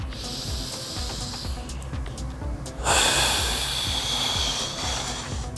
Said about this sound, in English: Now I want you to tie your breathing into the movements.